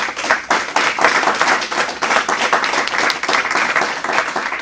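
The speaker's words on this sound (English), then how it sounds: "Let's give a round of applause to the speakers." A conference audience applauds speakers at an organic congress session, dense steady clapping filling the room for several seconds without pause.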